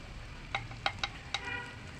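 Cumin paste hits a pan of frying prawns, giving a soft, steady sizzle with a few faint scraping clicks from stirring.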